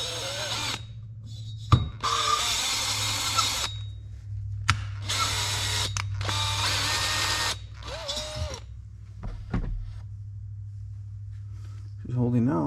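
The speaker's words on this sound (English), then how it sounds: "Here's the drill." A power drill grinding the valves of a John Deere STX38 lawn tractor engine whirs in several loud bursts of a few seconds each, close by, with pauses and scraping between them and a faint hum underneath.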